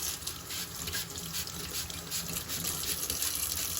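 A tap runs a strong, steady stream of water over a filter as sediment is rinsed off it, a continuous close splashing gush with no talking.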